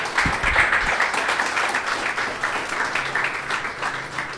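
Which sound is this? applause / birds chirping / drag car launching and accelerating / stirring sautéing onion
applause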